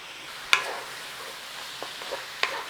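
Vegetables seasoned with black pepper in a pot for a creamy jerk pork hotpot sizzle softly while a utensil scrapes and knocks against the pot a few times, with two sharp clinks.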